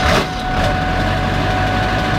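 A 1999 Ford 7.3L Powerstroke diesel engine runs cold at idle, a steady, loud low rumble with a brief louder burst at the start and no talking.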